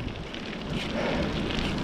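A cold headwind roars steadily into the microphone during a mountain bike ride as broadband buffeting, growing slightly stronger toward the end, with no voices.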